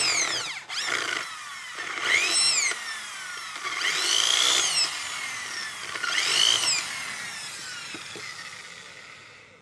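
A power drill whines up in pitch in several separate bursts while drilling through scrap metal, each rising then stopping, with short pauses between runs.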